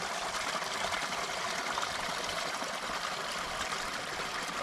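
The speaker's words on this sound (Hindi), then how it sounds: "और ये रहा तालाब, ये है तालाब" Continuous broadband rush of flowing water at a village pond, steady and moderately loud with no breaks, heard alone without voices.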